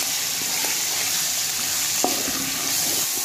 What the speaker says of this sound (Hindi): चिकन को हमने इसमें फ्राई करना है जब तक इसका रंग तब्दील हो जाए।